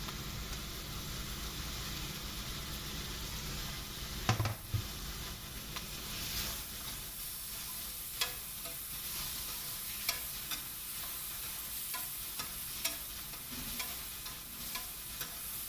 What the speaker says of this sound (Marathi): आता ह्याच्यावरच मी टॅमॅटो टाकते